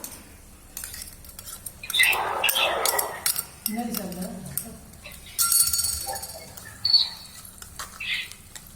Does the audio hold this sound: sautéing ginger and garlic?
yes